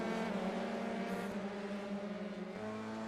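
Race car engines in a sim racing game, an F3 car at Oulton Park, hold a steady high-revving drone throughout, loud and continuous with a slight dip near the end.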